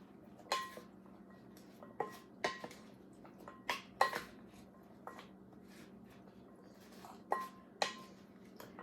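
Spoons clinking and scraping in a bowl as a Waldorf salad of fruit and nuts is tossed with dressing, a series of sharp, close metallic knocks spaced irregularly, with no talking.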